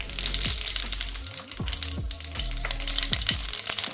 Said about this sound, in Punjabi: ਤੇਲ ਗਰਮ ਹੋ ਗਿਆ ਸੀ ਤੇਲ ਦੇ ਵਿੱਚ ਇੱਕ ਆਪਾਂ ਚਮਚੇ ਜੀਰਾ ਨੂੰ ਪਾ ਦਵਾਂਗੇ